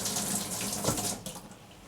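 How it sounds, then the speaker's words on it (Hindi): A kitchen tap sprays water hard into a sink, a loud continuous hiss and splatter that carries on steadily at close range with no voices. "ये इतना पानी फेंक रहा है और पानी सब बाहर भी आ रहा है"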